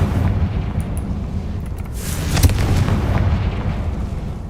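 A Confringo fire spell in Hogwarts Legacy detonates as a heavy, booming explosion, with a sharp blast near the middle over a rumbling, fiery roar.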